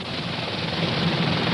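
A QH-50 DASH drone helicopter lifts off from a ship's deck, giving a constant, loud rotor and engine roar with a broad wash of noise and no break.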